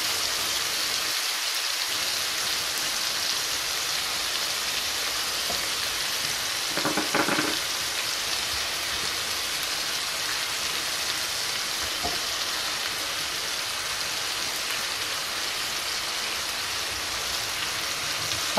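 Sliced onions fry in a pan, producing a continuous, even crackle and hiss like light rain, with a brief clatter of stirring partway through and no talking.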